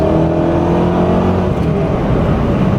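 A 2006 Ford GT's engine pulls hard under acceleration, a loud, close, continuous roar with a strong, steady droning tone.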